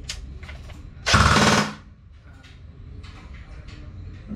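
A G&G Armament RK-74 airsoft replica, an AK-style rifle, fires one short, loud mechanical burst lasting about half a second, buzzing and rattling close to the microphone, then quiet outdoor background follows.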